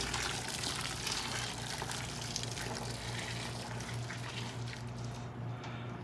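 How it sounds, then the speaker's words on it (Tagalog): Water poured into a cooking pot of seasoned chicken, a steady continuous pouring and splashing rush that fills the whole stretch at close range, with no talking over it. "Tapos ilagay na natin tong tubig."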